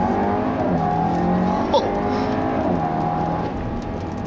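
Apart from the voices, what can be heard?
2017 Audi A4 accelerating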